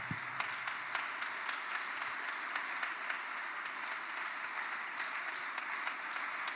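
A church congregation at a seminar applauding to acclaim the Lord, producing dense, steady clapping from many hands that continues throughout, loud and close with no voices standing out.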